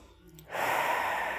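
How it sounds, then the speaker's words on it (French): Deep, steady breath in a Warrior I yoga pose, a soft broadband rush of air that swells after a quiet start and holds loud and close, with no talking. "Prends des grandes respirations."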